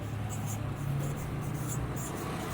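Pen on paper during an accounting class, writing out a cash flow statement; a faint, steady scratching that runs continuously, soft and close, with no speech over it.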